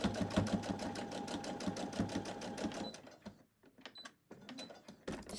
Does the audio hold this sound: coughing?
no